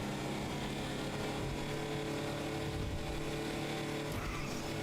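Car engine roaring steadily in GTA Online, with tires squealing and skidding as the vehicle slides through turns, loud and continuous throughout with no talking.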